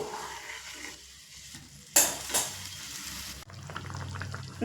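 A potato curry base for banana-flower koftas bubbles and sizzles softly in a pan, with a sharp metallic clatter midway as the lid goes on, then a steadier muffled simmer.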